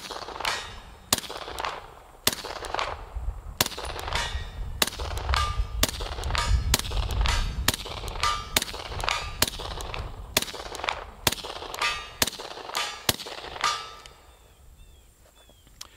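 Suppressed Glock pistol shots through a shortened suppressor in its K configuration ring out outdoors, roughly twenty sharp, loud cracks in a fast, fairly even string, each with a short metallic ring, then the firing stops.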